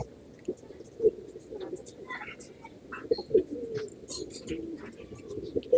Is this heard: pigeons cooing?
yes